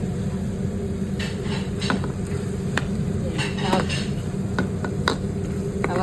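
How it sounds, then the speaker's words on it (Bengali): Potatoes fry in hot oil with a steady sizzle, broken by frequent scraping and clinking of a spoon stirring against the pan, close and continuous. "আমি প্রথমে এই আলু আলাদাভাবে ভাজি নিচ্ছি তেলের মধ্যে"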